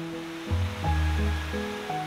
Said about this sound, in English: So the Patilly Burn is our water source that we use in Aberfeldy whiskey and in our Dewars blend.